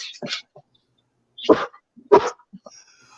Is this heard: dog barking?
yes